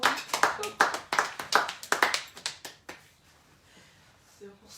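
Church congregation applauding in a quick, fairly close burst of clapping that lasts about three seconds, then fades into quiet room tone with a faint voice near the end.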